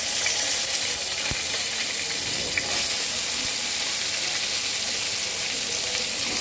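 Chopped bottle gourd dropped into hot oil with whole cumin and bay leaf, a loud, continuous sizzle and hiss that stays steady throughout, close up and without talk.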